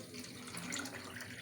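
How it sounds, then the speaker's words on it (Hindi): Water is poured steadily into a pot of rice for cooking, a soft continuous splashing and trickling heard close by and alone, without any talk. "अब हम इसमें पानी ऐड करने लगे हैं।"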